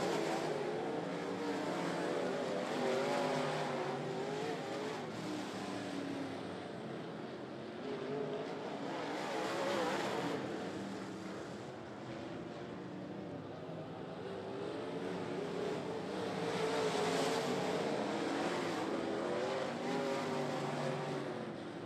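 Race cars with Pro Power race engines roaring around a track, a dense sustained engine din that swells and fades in waves as the field passes, moderately distant and with no talk.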